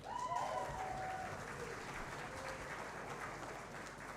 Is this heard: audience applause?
yes